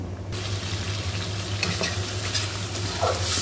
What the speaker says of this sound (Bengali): তো এই মশলাটা এখন আমি ভালো করে কষিয়ে নিব।